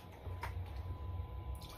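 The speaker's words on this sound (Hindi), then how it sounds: "हल्का सा इसमें पानी डाल के" Water poured onto tamarind pulp in a cooking pan, a soft steady liquid trickle and gentle squishing, close and fairly quiet throughout with no talking.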